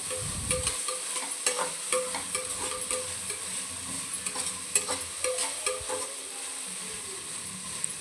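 Ginger garlic paste fries and is stirred in a pan, a constant close sizzle broken by irregular scraping stirs, alone with no talking.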